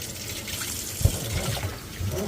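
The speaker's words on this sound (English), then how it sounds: "First, we're going to rinse it with water," Tap water runs into a sink while duck organs are rinsed, an uneven splashing and trickling with a few sharper knocks and gurgles, close and moderately loud.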